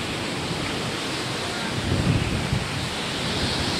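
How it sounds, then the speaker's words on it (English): Strong coastal wind roars steadily and close to the microphone, a dense rushing noise with a gust swelling briefly in the middle. "Look at it. It's really windy."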